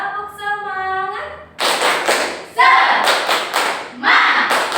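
Primary school pupils perform a rhythmic class clap, sharp clustered bursts of hand claps in patterned groups, preceded by a sung or chanted voice and mixed with children's voices.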